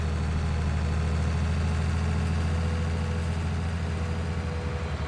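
Tractor engine in the Farming Simulator 19 video game, driving fast through tall grass: a steady, low, rumbling drone that holds at an even level throughout with no breaks.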